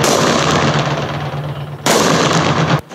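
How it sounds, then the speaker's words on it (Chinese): Rapid gunfire from rifles and machine guns at military shooting training, loud continuous bursts filling the clip, with a brief pause before a final volley. "伴随着枪声"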